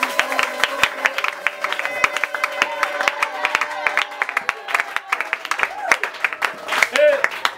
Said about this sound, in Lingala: C'est la raison pour laquelle tous nous pouvons acclamer très fort pour le Seigneur